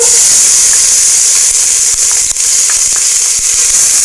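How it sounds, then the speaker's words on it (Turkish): Chopped onion frying in vegetable oil in a pot for red lentil soup gives a steady, loud hiss of sizzling, continuous throughout, with faint scattered crackles and no talking. "Soğan biraz kavruldu."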